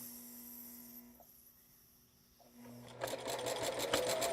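A home sewing machine whirs with an empty bobbin, starting after a quiet stretch with a rapid mechanical chatter that grows louder and continues to the end, close by.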